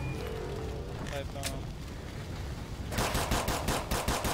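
Rapid bursts of automatic gunfire in the zombie shooter Left 4 Dead 2 crackle loudly in the second half, following quieter game noise and distant effects, with a player talking over it.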